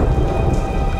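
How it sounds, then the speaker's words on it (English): A brief burst of heavy rain and deep rumbling thunder heard from inside a cave, a dense, loud storm texture with no voices, in the cartoon Octonauts: Above & Beyond. "Sounds more like a storm outside."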